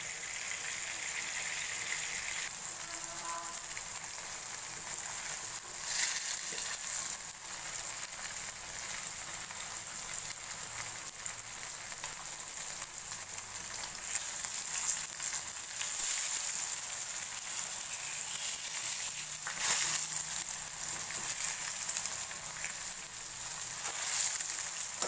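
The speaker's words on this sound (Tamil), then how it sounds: "இப்போ பார்த்தீங்கன்னா ஃப்ரை ஆயிடுச்சு." Fish pieces frying in hot oil for Tamil Nadu style fish biryani give a steady, continuous sizzle and crackle close up, with no talk over it.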